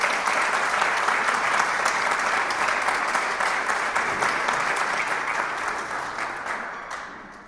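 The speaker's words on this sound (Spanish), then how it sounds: "le damos un fuerte aplauso a Vanessa" Audience applauding for author Vanessa Montfort at a literary café event, steady dense clapping filling the room throughout and tapering slightly at the end.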